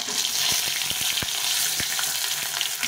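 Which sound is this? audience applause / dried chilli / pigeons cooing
dried chilli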